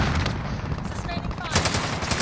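Rapid automatic gunfire tears through a tent on Rebirth Island in Call of Duty, a dense, loud, continuous burst of shots that swells even heavier toward the end.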